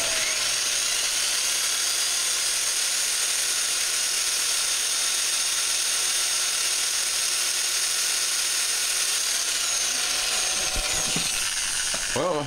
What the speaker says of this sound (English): Well, at least I can use my jigsaw.